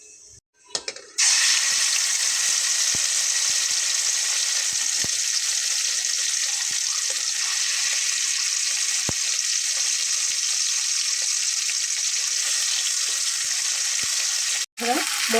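Ground spice paste hits hot oil tempered with nigella seeds and a dried chili, setting off a loud, steady, close-up sizzle that runs without a break after a short quiet start and stops abruptly near the end.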